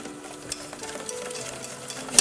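A spoon stirs a small amount of milk into sugar and corn flour in a pot for homemade vanilla pudding, giving soft, faint scraping and swishing with a few light clinks against the pan.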